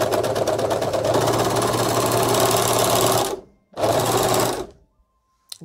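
An overlocker sewing machine trims fabric along a stitch line with a fast, steady mechanical whir, loud and close, stopping briefly, running again in a short burst, then falling silent.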